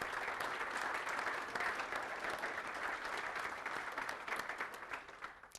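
A conference audience applauds steadily, a dense wash of clapping hands that holds for several seconds and then thins slightly toward the end.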